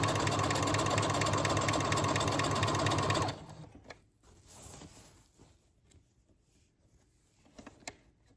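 Sewing machine running a zigzag stitch along a saree edge, a loud rapid mechanical whirring for about three seconds that then stops, followed by faint handling clicks and rustles.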